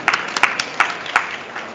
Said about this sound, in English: You deserve a round of applause, sir.